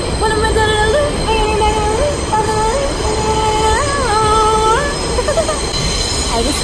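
Subway car running on rails, a steady loud rumble with high metallic wheel squeals rising and bending repeatedly over the noise, no talking.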